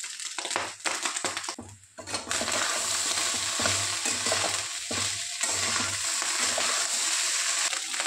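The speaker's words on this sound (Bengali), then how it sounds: "কমপ্লিট আমার ভাত ফ্রাই করা, এটা ভাত ভাজা।" Vegetable fried rice with cumin powder and coriander leaves sizzles loudly in a pan while a utensil stirs and scrapes through it, giving several sharp clattering strokes over a continuous close frying hiss.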